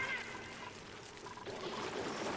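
Water streams and trickles steadily in the colony-building video game Oxygen Not Included, a continuous soft rushing wash heard at moderate volume.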